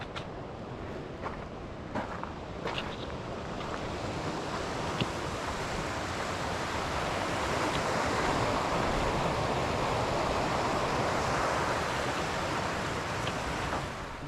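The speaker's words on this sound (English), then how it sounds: "that river I just crossed was fed from a glacier" Rushing water of a glacier-fed river fills the scene as a broad, steady roar, mixed with wind buffeting the microphone and a few faint knocks early on, with no talking.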